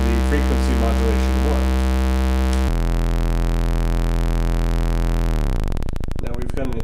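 A Dixie modular synth oscillator drones steadily with its sine output patched back into its own frequency modulation input, the tone shifting in timbre partway through and then sweeping into a rising, gritty modulated buzz; no talking.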